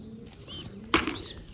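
Pet pigeons kept in a rooftop cage coo softly in low murmurs, then a sudden loud flutter bursts in near the end, close and brief.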